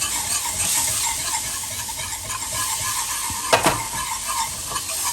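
A pan of blonde roux is stirred as cold milk goes in, giving a steady close-up sizzle and bubbling with a brief scraping clatter midway through.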